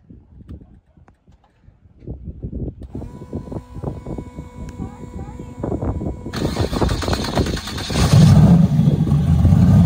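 Race car engine at a raceway being revved after the choke is pulled, starting with sputtering, uneven firing and building to a loud, rising rev near the end, with people talking over it.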